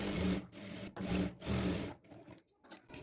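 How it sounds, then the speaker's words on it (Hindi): Three quick runs of a sewing machine stitching a plain blouse, each a dense mechanical whir about half a second long, followed by lighter handling clicks; nearby and with no voices. "तो चलिए सिलाई लगा कर उसके बाद दिखाते हैं"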